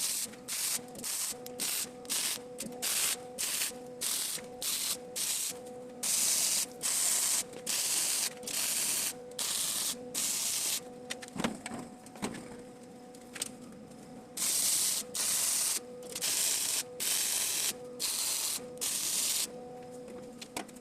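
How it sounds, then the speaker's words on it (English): Welding farm gate posts clamped to a metal table: repeated crackling, sputtering bursts of a few seconds each, separated by brief pauses, with a faint mechanical hum underneath. "Now I'm going to go around and weld every post."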